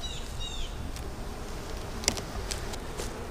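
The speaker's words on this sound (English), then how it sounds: "You got bees crowding the top like that, usually there's beetles up top." Honeybees buzz steadily around an open hive in autumn, a close, continuous drone with a few individual bees whining past the microphone and occasional soft taps.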